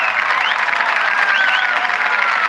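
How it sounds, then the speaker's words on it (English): Cricket crowd in a Pakistan versus Sri Lanka match applauding a boundary, a dense, steady wash of clapping and cheering that fills the whole stretch, loud and continuous, with a faint voice underneath. "It's been a while since the crowd had a boundary to cheer for"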